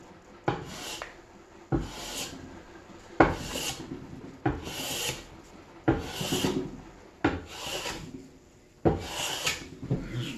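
Hand planing a timber-framed table base with a small Bailey plane, about eight rhythmic rasping strokes, each starting with a sharp bite and trailing off, close and alone.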